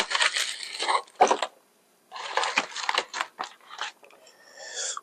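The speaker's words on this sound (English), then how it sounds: "Let me get it out of this foil and we'll cut into it here." Cooked ribs being unwrapped from aluminum foil give bursts of crinkling and crackling foil, loud and close, in irregular rustles with a brief pause midway.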